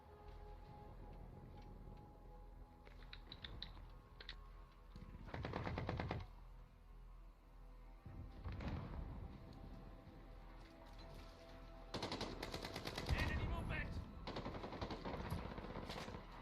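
Gunfire in the video game Call of Duty, with rapid machine-gun bursts in several loud stretches, separated by quieter gaps over a steady game background.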